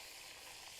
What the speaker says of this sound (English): I'm going to end up double deep frying at least some of these